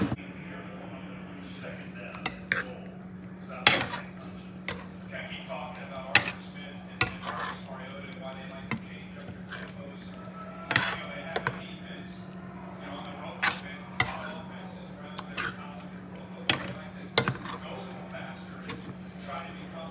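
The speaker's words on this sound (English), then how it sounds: "now we're just gonna try to evenly coat all of this sauce on these meatballs" Sun-dried tomato sauce being stirred over turkey meatballs in a pan, with scattered utensil scrapes and sharp clinks against the pan over a steady low hum and faint sizzle throughout.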